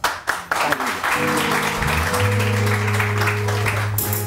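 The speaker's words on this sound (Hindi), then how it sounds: "बहुत सारी तालियां" A studio audience on a morning TV show claps steadily; a few sharp claps open the burst, then music with sustained tones swells underneath the ongoing applause.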